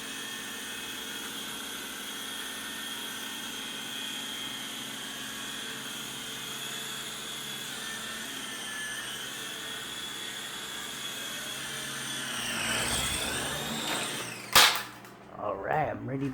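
A Syma S39 Raptor RC helicopter hovers indoors with a continuous high rotor whine, then its pitch shifts and it ends in a sharp crack and clattering bumps near the end, close by and without talk.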